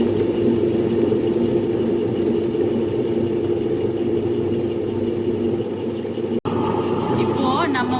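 A grinder works soaked fenugreek seeds with a little soaked idli rice for batter, a steady, loud motor whir and churning hum that continues without pause apart from a brief dropout near the end.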